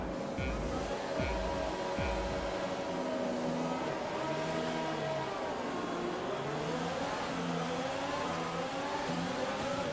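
A racing car on intermediate tyres in a wet racing game revs with a wavering engine whine over a constant spray-like hiss as the wheels spin, steady and fairly even throughout.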